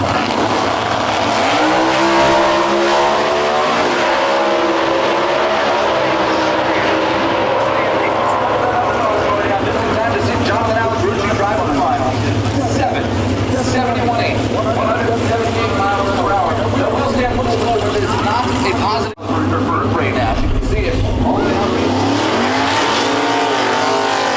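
Factory Stock drag race cars, including a KSR Cobra Jet, roar off the line at the NHRA Route 66 Nationals near Chicago, a loud sustained engine howl with tire noise, overlaid by continuous announcer commentary.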